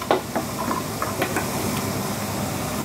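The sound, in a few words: water boiling in a pot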